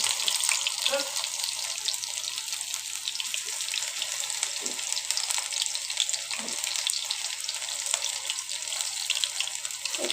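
Pumpkin flowers fry in a pan with a steady hiss and sizzle that runs throughout, alone and close, with a few faint clicks.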